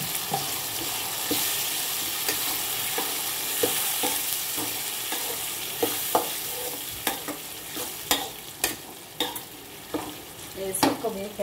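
Mango paste frying in a pan gives a steady broadband sizzle throughout, broken by irregular scraping stirs and sharper clicks of a utensil against the pan that grow more frequent toward the end.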